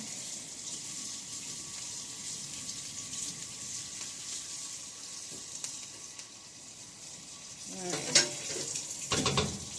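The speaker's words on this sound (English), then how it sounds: "Give that a stir." Food sizzles steadily in a hot pan on a home kitchen stove, a constant bright frying hiss, with a few scraping stirs of a spoon and clinks near the end.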